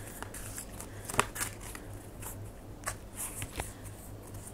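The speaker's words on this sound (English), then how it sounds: "These cards are hard to shuffle." Large oracle cards being shuffled by hand, soft papery riffles and slides with a few sharper flicks, close and fairly quiet, with no talking.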